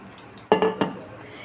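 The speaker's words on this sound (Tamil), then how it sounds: "நான் ஒரு ஃபேன் வச்சு ஆயில் ஊற்றிக்கிறேன்" A pan is set down in a home kitchen ahead of pouring oil for frying chicken 65, giving three sharp metallic clanks in quick succession over quiet room noise.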